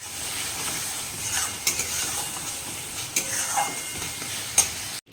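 Prawns frying in a spicy masala of ginger, garlic, green chilli and onion, a steady close sizzle with scraping stirs and occasional clinks of a utensil against the pan, ending abruptly.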